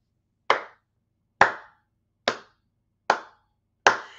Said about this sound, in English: I got to clap it up for him really quickly, a slight softer clap than normal